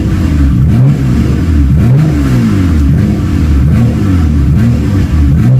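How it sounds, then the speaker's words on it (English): A Nissan RB26 engine with six individual throttle bodies revs up and down in quick repeated blips, each rising then falling sharply; loud, close and alone. "Why the RB26 sounds real different from the 2JZ is because it's individual throttle body. It has 6 throttle body, that's why it sounds different."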